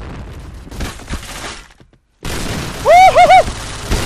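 A grenade goes off in a video game shooter, a sharp blast after a brief silent gap, followed by ringing game effects in a loud, busy mix.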